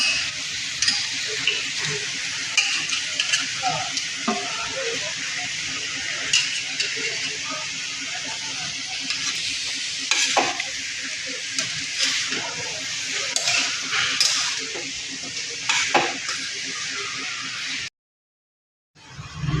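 Chicken pieces frying in a pan for chicken kosha, a steady close sizzle broken by stirring scrapes and clatters, ending in a brief silence.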